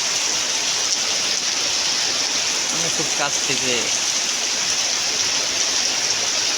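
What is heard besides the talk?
rain falling on a tin roof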